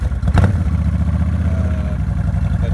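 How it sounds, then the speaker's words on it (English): A motorcycle fitted with a stereo system is cranked, a short starter burst followed by the engine settling into a steady, close, rumbling idle. "I will go ahead and even crank the motorcycle."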